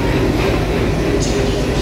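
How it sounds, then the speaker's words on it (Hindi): A diesel locomotive train at Lucknow station rumbles steadily and loudly close by, a continuous heavy low drone with faint clatter, with a voice present in the noise. "डीजल लोकोमोटिव ये देखिए"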